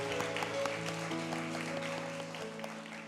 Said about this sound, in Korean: 우리 부활하신 주님을 향해서 영광의 박수를 올려드리겠습니다.